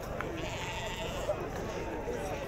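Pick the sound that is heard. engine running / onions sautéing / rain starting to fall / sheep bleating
sheep bleating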